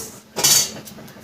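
Roasted spices for a Bengali dudh shukto being ground, heard as a short, loud burst of scraping and clinking of stone or metal, alone with no talking.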